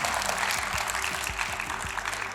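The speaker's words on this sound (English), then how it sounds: "Some claps have also come in." Audience applause at a school quiz competition, dense, steady clapping from a crowd filling the room throughout, with a low voice murmuring underneath.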